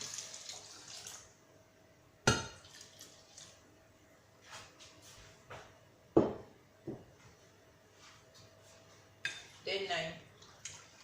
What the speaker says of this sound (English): I have to put warm water to wash the rice